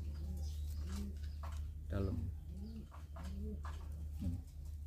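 A pigeon coos in low, repeated throaty phrases, close by, with a steady low hum underneath throughout.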